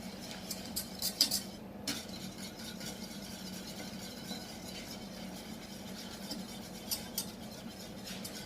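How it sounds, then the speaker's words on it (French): A mixture of pistachio and milk is stirred in a bowl for an apricot-pistachio log cake, with quiet, continuous scraping and a few light utensil clinks against the dish. "À ce moment-là, on remue pour éviter les morceaux."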